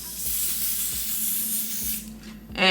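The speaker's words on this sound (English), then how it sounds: "I'm going to do 3 layers of the even lace spray." Close, steady hiss of lace spray misted onto a lace frontal wig, a continuous burst lasting a couple of seconds before tapering off.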